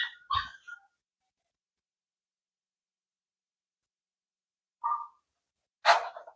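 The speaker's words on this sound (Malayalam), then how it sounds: "നമ്മുടെ ഈ ഡ്യൂഡിന്റെ പപ്പിയാണ്, ചെറിയ പപ്പീസാണ്." Small puppies giving a few brief, high whimpers and yips close by, a short burst at the start, then a long quiet gap before two more short cries.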